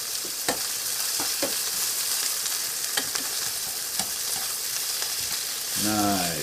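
Burger patty and onions sizzle steadily in a frying pan with a constant hiss, broken by a few faint clinks of a utensil and a brief tonal squeak near the end.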